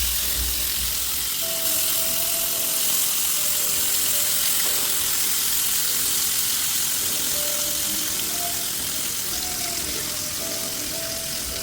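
Butter fish frying in a pan over a low gas flame, a steady broadband sizzle that runs the whole time with faint clinks and light tonal squeaks from the pan, close and with no talk.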